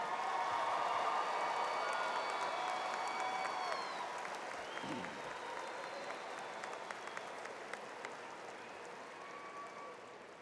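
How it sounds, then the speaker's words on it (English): Applause for graduates at a December university commencement, a sustained wash of clapping from a large audience that slowly fades, with some faint voices beneath. "let's give our graduates another round of applause"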